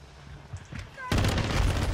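Loud rapid gunfire from Modern Warfare 2 breaks out after a quieter second with a short voice, then keeps going as a dense barrage with bursts of shotgun blasts.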